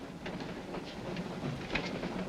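A passenger train rolls along the rails with a steady rumble and faint rhythmic clicks of wheels over track joints, continuous and moderately close.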